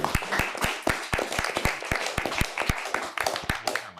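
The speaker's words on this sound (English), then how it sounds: "A round of applause for both teams in today's game." Applause for two high school quiz teams at the end of a televised quiz game, scattered, fairly sparse hand claps in an uneven rhythm, moderately close and with no talk over them.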